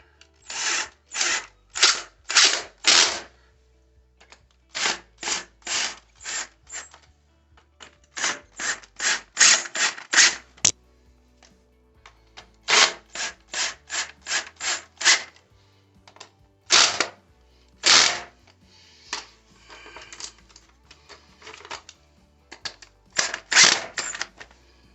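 A power tool drives toilet bolts into a floor flange in short repeated bursts, each a loud whirring buzz of a second or two, grouped in runs with quiet pauses between, close by and alone.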